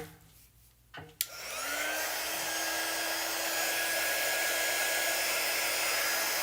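A hair dryer clicks on after a quiet moment and runs with a steady, even whoosh, blowing at close range over a glued craft design.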